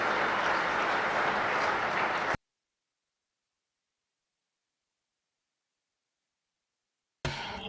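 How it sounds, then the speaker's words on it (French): An audience at a conference day on sustainability in vocational training applauds two incoming co-moderators: about two seconds of dense, even clapping that cuts abruptly to silence, followed by a short burst of noise at the end. "Des applaudissements pour ces deux-là."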